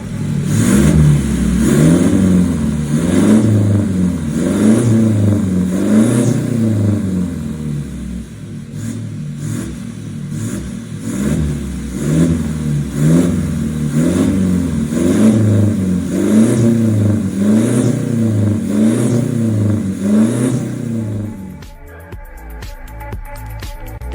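Toyota Innova with a 2GD diesel engine and an FCK full-system exhaust, revved repeatedly in a steady rhythm of rising and falling deep throaty pulses, loud and close, before cutting off near the end.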